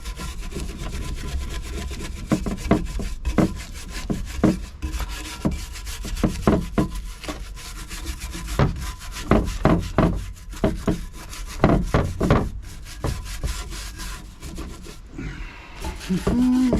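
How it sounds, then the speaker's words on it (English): Stove door parts being scrubbed, a steady, close rasping rub with rhythmic strokes that runs almost without pause. "I'm going to give these a little scrub."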